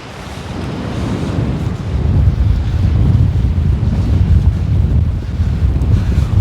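Incoming tide on the River Mersey estuary near Speke, Liverpool, with steady loud wind buffeting and rushing water building into a continuous close roar, no voices.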